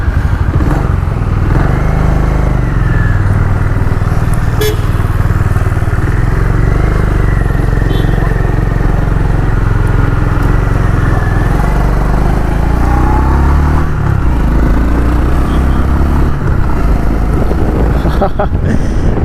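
A Honda Hness CB350 motorcycle, a 2025 BS7 model, idles loud and close with a steady throbbing single-cylinder thump and a few mechanical clatters throughout.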